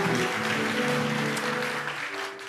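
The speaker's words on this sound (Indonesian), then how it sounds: "Kasih tepuk tangan dong buat Tuhan." Church congregation applause during a Sunday service, a dense continuous clapping wash over sustained music from the band, moderately loud and easing slightly at the end.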